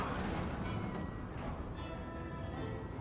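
Cannons fire during the Battle of Waterloo in Napoleon Total War on very hard difficulty, a dense, rumbling barrage of booms and crashes that rolls on continuously for a few seconds.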